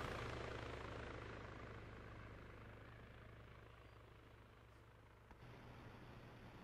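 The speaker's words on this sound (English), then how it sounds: "Helicopter leaving in 10." A video game helicopter's steady rotor drone hums on without a break, easing slightly quieter over several seconds, with no voices.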